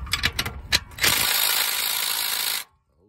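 DeWalt power tool working on an old rusted bolt of a Ford F150: a few sharp ratcheting bursts, then a loud sustained whirring rattle for about a second and a half before stopping abruptly, close up.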